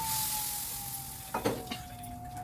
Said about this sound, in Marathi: मी थोड्या मिरच्या तळून घेतल्या आहेत आणि चटणीला फोडणी घालून घेते तडका